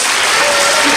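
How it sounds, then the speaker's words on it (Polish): A loud, dense wash of applause from an audience at a school event honoring Mrs Basia, heard in a short, continuous burst. "na ręce pani Basi wielkie podziękowania, wielkie brawa"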